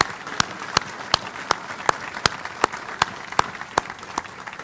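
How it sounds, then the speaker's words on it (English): Sparse audience at a Montford Point Marine Day ceremony giving a slow, rhythmic round of claps, each clap distinct and evenly spaced over faint crowd murmur. "Please join me in a round of applause for them, their families, and all those who made this ceremony happen today."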